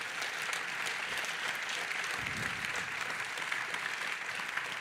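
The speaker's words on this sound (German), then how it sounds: "Vielleicht zuerst mal mit einem tobenden Applaus an alle." An audience applauds after a talk on architecture, energy efficiency and aesthetics: a dense, steady wash of clapping from a crowd that holds evenly for several seconds.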